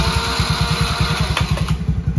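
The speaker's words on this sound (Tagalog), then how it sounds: "Paano i-start yung motor niya?" A motorcycle engine starts and settles into a steady, rapid low thumping idle with a faint clatter, close and loud, with no talk over it.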